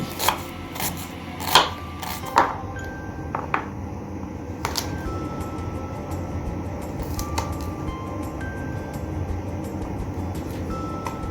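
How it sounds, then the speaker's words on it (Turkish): Garlic is chopped with a knife on a board for an olive-oil dish, giving a few sharp, close knocks early on that thin out into softer, sparse taps over a quiet background. "Sarımsaklarımızı zeytinyağlıya yakışır bir şekilde doğruyoruz."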